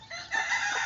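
A Kamawayon gamefowl rooster, an F1 breeding bird, crows once in a brief, close, loud call that rises in strength after a short start, with no voices.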